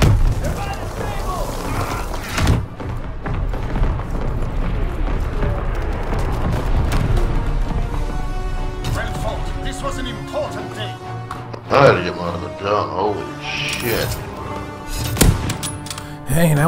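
Artillery strike in a video game: a series of heavy booms and explosive blasts rolling through the first seconds, followed by scattered sharper impacts and a voice talking over the aftermath.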